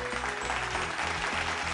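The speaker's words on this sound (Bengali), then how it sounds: "জোরে হাততালি।" Studio audience at a Bengali family game show bursts into applause, a dense steady wash of clapping with music playing underneath throughout.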